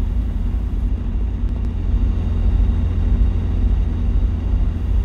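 An Aerospool WT-9 Dynamic light aircraft engine in a flight simulator drones loudly and steadily during takeoff, a constant low hum that thickens slightly as it goes.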